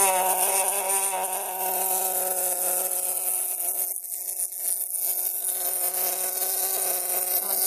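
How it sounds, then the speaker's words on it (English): A fine pneumatic air scribe works on a fossil specimen in a prep lab, making a continuous high buzzing whine with one short dip in the middle, close and loud with no talk. "It's another air scribe. Again, it's powered. It's got air running through it"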